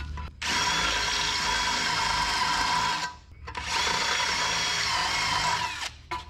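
A power drill with a step bit whines steadily at close range in two long bursts with a short pause between, the high-pitched grinding of the bit enlarging a hole in a 1961 Chevrolet wagon's metal.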